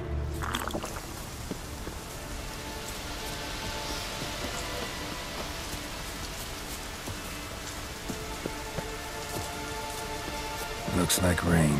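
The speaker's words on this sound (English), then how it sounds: "Looks like rain." Steady rainfall in The Witcher 3 hisses continuously as an even wash of drops, moderately loud and unbroken for the whole stretch, with a brief louder shift near the end.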